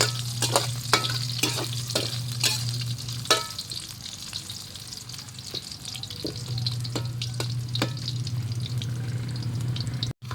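Pancit noodles frying and being stirred in a pan, a steady close sizzle punctuated by scraping, clacking utensil strikes, loud and continuous with no talking.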